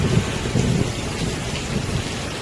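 Heavy rain and rolling thunder form a storm effect in an animated Bible story, a loud, steady wash of rainfall with low rumbling pulses throughout.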